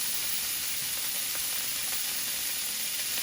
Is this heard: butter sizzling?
yes